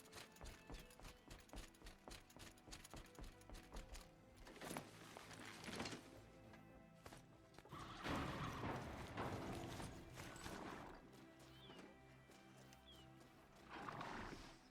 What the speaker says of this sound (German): Hey, Pferd!